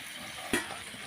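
Food fries in a pan with a steady, even sizzle and one brief clink about halfway through. No one speaks.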